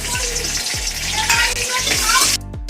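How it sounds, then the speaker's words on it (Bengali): Green chillies frying gently in oil on low gas, a steady close sizzle with periodic low thumps of stirring, for an aloo-begun kachori recipe. "কাঁচা লঙ্কাকেও একটু ভাজা করে নেবো হালকা করে।"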